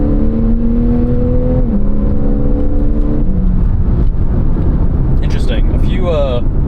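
2014 Porsche 911 Carrera 4S with PDK gearbox accelerating, engine pitch climbing and dropping through a couple of upshifts, loud and close, heard from the cabin with a brief voice near the end.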